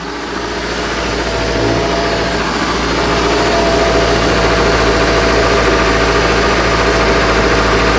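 A Mercruiser 120hp inboard engine in a 1968 Starcraft Islander boat runs steadily at a smooth idle, a loud, continuous low rumble with a faint whine on top, close by and alone with no talk.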